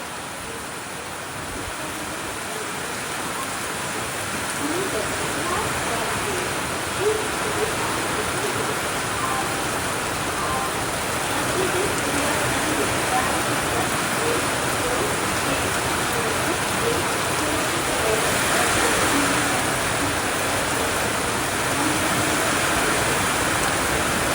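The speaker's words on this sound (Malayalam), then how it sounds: "മഴ ഇങ്ങനെ കാറ്റടിച്ചു വരികയാണ്" Wind-driven rain falls steadily during a train journey on the Mangaluru Mail, a dense continuous hiss that swells gradually and stays loud throughout.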